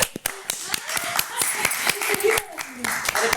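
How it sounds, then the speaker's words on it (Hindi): Scattered hands clap in a small audience, with sharp individual claps at an uneven rhythm and voices talking between and over them. "थोड़ी सी तालियां बजा दीजिए।"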